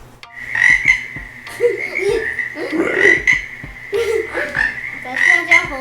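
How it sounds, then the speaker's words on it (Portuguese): A frog croaks close and loud in repeated bursts, several calls in a row over a steady, high-pitched background chorus, with a few faint sounds between the croaks. "a gente começou logo com um sapo"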